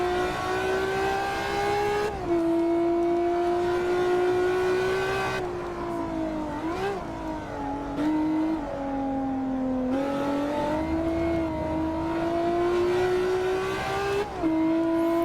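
A Ferrari F50 V12 engine in the Assetto Corsa racing game revs hard through the Tosa corner, holding a steady high whine that dips and climbs through shifts and throttle corrections, loud and alone.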